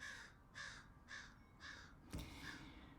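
Crows caw five times in a steady rhythm about half a second apart, harsh and fairly faint at a moderate distance, with a soft thump near the end and no talking.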